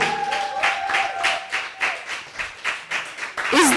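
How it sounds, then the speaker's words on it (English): Audience applause at a book launch greets a speaker taking the stage: steady clapping from a modest crowd, close and lively, with a brief squeal of feedback near the end. "So trust me, the applause really helps."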